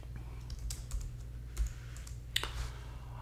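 Sparse keystrokes on a computer keyboard while a name is typed on a Fedora 42 KDE Plasma desktop, soft and irregular over a steady low hum, no talk.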